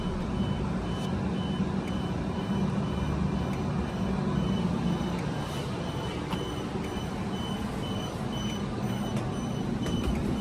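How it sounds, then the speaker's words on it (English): A low-voltage alarm on a Tiara Yachts EX 54 beeps repeatedly at a regular pace over a steady low background hum, persistent throughout. "Sorry about that beeping. We have a low voltage alarm."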